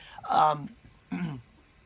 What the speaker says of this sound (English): Try another cough.